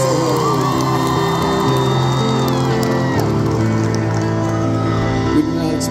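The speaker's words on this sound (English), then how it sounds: "give yourselves a round of applause for being such an incredible crowd and showing up" A concert crowd at a show in Bangor, Maine cheers and whoops, a dense sustained wall of voices and shouts with whistles riding over it, loud and continuous.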